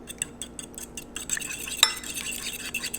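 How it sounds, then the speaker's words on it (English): A whisk beats eggs in a bowl for protein pancakes, a quick rhythmic series of light clinks and taps against the bowl's side, close up and steady with no voice. "So you want to whisk your eggs. Blend them up pretty good here."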